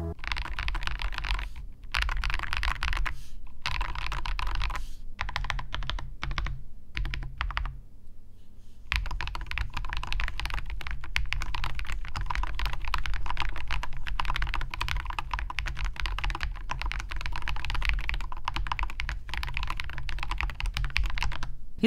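Rapid, crisp clicking of a mechanical keyboard with newly changed keycaps, typed in steady bursts with a brief pause partway through; close and clear, no talking.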